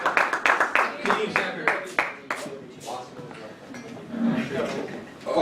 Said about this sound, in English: round of applause for all of our first team all-conference winners